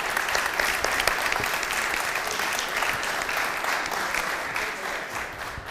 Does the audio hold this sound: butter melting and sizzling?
no